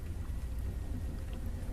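Rain falls steadily as a soft, even hiss with a low rumble beneath, constant and unbroken throughout the short stretch.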